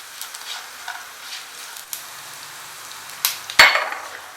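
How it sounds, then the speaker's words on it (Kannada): Garlic, black pepper and a small piece of ginger fry in a pan, with a soft sizzle and light stirring scrapes, then louder bursts of hissing and clatter near the end as more goes in. "ಇದೆಲ್ಲ ಸ್ವಲ್ಪ ಬೆಳ್ಳುಳ್ಳಿ ಜೊತೆನೇ ಫ್ರೈ ಮಾಡ್ಕೊಳ್ಳೋಣ"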